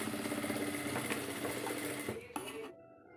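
A sewing machine runs a fast, steady stitching buzz along a salwar seam, then slows and stops abruptly near the end, with no talk over it.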